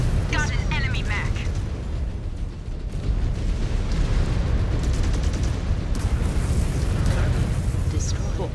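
Heavy booms and crackling blasts roll on without a break as an enemy mech blows apart in MechWarrior 5: Clans, loud and dense, with a voice talking over the noise.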